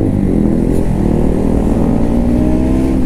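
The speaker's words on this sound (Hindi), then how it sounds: "मेरी बाइक आज बहुत खींच रही है" A KTM Duke 390 motorcycle engine drones steadily and loudly while being ridden, a dense continuous mid-pitched roar with no voices over it.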